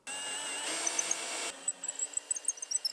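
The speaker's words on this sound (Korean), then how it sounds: "이것보다 더 큰 크기를 타공을 해야 할 때 이런 어거 비트를 사용하면 되겠지." A hammer drill fitted with an auger bit bores into wood with a loud burst of motor whine for about a second and a half, then stops, followed by a run of small sharp clicks and rattles.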